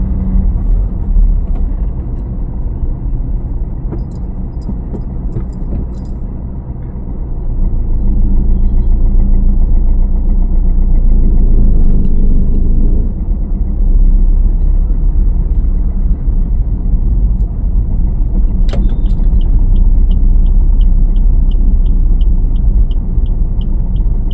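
A car engine rumbles loudly and continuously as the driver presses the clutch and shifts into second gear, the drone rising in level partway through and then holding steady.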